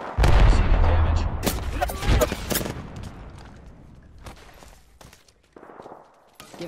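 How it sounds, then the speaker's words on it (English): Rapid bursts of gunfire in the video game Apex Legends, loud and dense at first with booming impacts, then thinning to scattered single shots and sharp clicks over a low rumble. "I am taking fire, friend."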